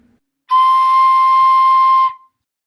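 A high C held on a Toot, a small beginner wind instrument, sounding as one steady, loud, breathy whistle-like tone of about one and a half seconds, played alone.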